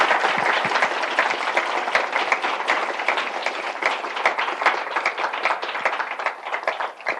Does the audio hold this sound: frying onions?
no